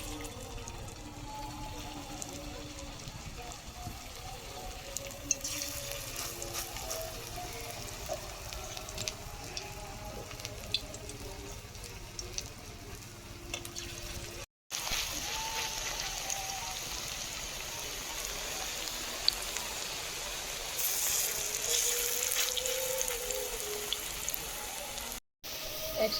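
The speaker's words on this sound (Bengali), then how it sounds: "কড়াতে সর্ষের তেল দিয়ে দিচ্ছি, বড়া ভাজবো" Kalmi greens fritters frying in hot mustard oil in a kadai give a steady, dense crackling sizzle that runs for the whole span without speech, briefly cut twice.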